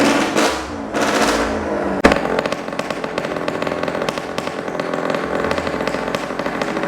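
Motorcycle engines rev loudly and continuously inside the wooden drum of a Tong Stand wall-of-death show at a folk festival in Tasikmalaya, with a sharp bang near two seconds and a buzzing, chainsaw-like roar throughout.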